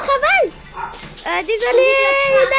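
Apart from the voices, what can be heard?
dogs barking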